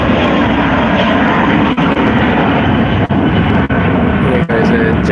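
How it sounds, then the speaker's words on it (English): A Jetstar Airbus A320 passes at night with a loud, steady jet engine roar, broadband and close, with no talk over it. "Here goes a Jetstar A320"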